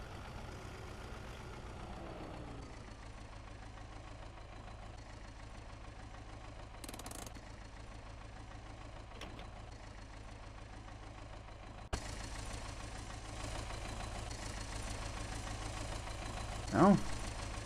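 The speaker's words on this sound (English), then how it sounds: "Oh, it's a tractor." In Farming Simulator 17, a tractor engine idles with a steady low rumble throughout, joined by a brief clunk and some faint background noise toward the end.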